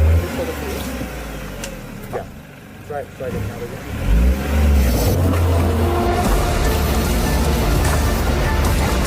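Tata Punch petrol two-wheel-drive car climbing a rough boulder road, its engine droning steadily and rising in pitch as it strains upward, loud and close, with voices talking over it.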